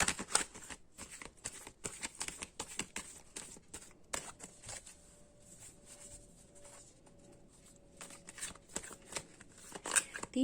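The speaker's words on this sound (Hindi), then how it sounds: "हम 3 कार्ड निकालने वाले हैं और उसी से हम अंदाजा लगाएंगे" Oracle cards being shuffled and drawn during a tarot-style reading, with quick papery riffles and flicks in bursts, close and fairly faint, and a quieter stretch in the middle.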